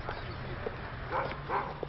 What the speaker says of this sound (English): An attack dog?